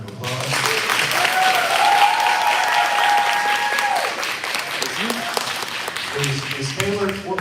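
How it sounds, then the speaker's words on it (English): Audience applause for Wesley and his team at a live small business appreciation day event, a broad sustained wash of clapping with voices and cheers mixed in, steady and fairly loud throughout. "I want everyone to give Wesley and his team a big round of applause"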